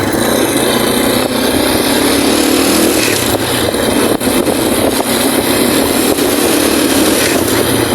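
A motorcycle engine runs on a test ride after a swing arm bushing replacement, a loud, steady, close drone with wind rush and no talking.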